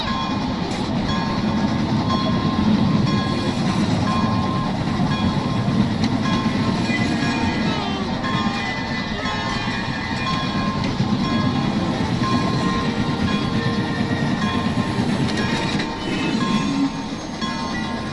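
Pere Marquette 1225 steam locomotive hauling a train, heard as a loud, continuous rumble of rolling rail cars with rhythmic clickety-clack from the wheels, sustained without a break.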